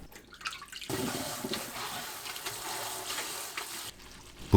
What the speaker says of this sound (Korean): 찬물에 두세 번 헹굽니다.